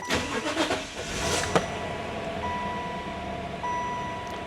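A 1996 Chevrolet Impala SS with an LT1 5.7L V8 cranks briefly, then fires up and settles into a steady, close idle.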